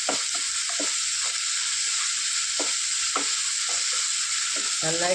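Mixed vegetables sautéing in an oiled pan for Kerala-style vermicelli upma, a constant loud sizzle with occasional scrapes and taps of a spoon stirring against the pan.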